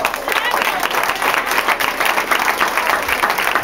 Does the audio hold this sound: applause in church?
yes